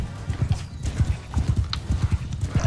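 Horse hooves clip-clop in a steady rhythm across the Mount and Blade II: Bannerlord battlefield, fairly close and loud throughout, with a brief whinny in the mix.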